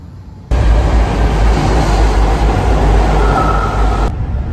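Loud, steady rumbling roar of an MRT metro train ride on the Putrajaya Line, with a constant high whine, starting abruptly and holding evenly throughout.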